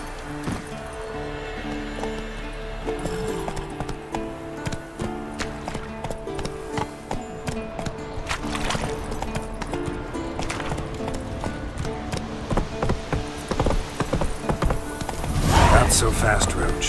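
Roach, the horse in The Witcher 3: Wild Hunt, gallops with a steady, fast clip-clop of hooves, close and continuous, beneath game music and a voice speaking.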